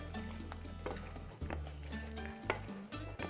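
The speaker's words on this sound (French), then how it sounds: "on va la cuire un bon moment pour que ça ne goûte pas la farine pas cuite" Flour cooks in a saucepan for a chicken medallion and broccoli casserole, a quiet sizzle with intermittent scraping and light utensil clinks as it is stirred; no talking.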